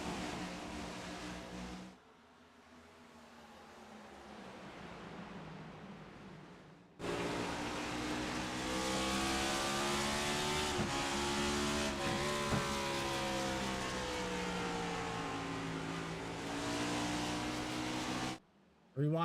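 Race car engines roar as a field of cars restarts at Richmond, a dense, loud wall of revving engine noise with rising and falling pitches, following a quieter stretch, while a commentator talks over it.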